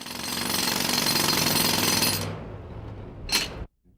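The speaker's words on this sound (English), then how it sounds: "It's about a 90-pound jackhammer. Carries about 200 pounds of pressure." A 90-pound pneumatic jackhammer at a construction site pounds pavement in a loud, rapid, continuous hammering burst that cuts off after about two seconds, leaving a brief hiss of air before silence.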